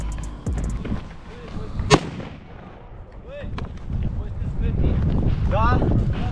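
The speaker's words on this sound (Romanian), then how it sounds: "Deci noi în acest moment băgăm o petardă." A single firecracker goes off with one sharp, loud bang amid outdoor wind noise, with people talking around it.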